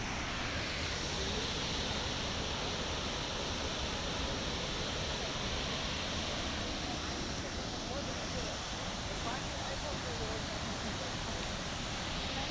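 Water thunders down at Chitrakote waterfall, a loud, steady broadband roar that holds without a break from start to finish.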